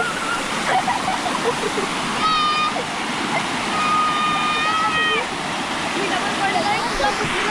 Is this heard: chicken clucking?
no